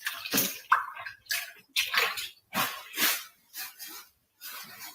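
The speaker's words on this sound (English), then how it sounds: "I'm just going to rinse my hands." Hands rinsed under a running kitchen tap while cooking turkey meatballs, with irregular splashing bursts of water starting and stopping close by and no talk.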